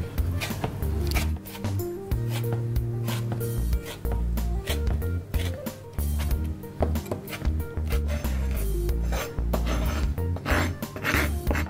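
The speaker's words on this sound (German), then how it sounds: "Jetzt hacke ich sie ein wenig klein, weil so waren sie mir zu lang." Fine chopping of organic orange peel with a knife on a board, a dense run of quick, steady close cuts lasting throughout with no talk.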